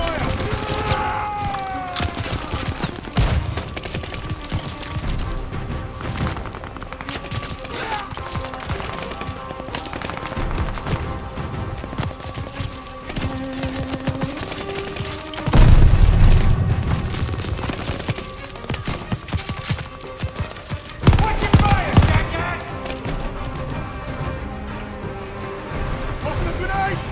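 Gunfire in Call of Duty: Vanguard's campaign: dense bursts of rifle and machine-gun shots rattle continuously, with heavier booming volleys near the middle and end, under a game soundtrack and shouted voices.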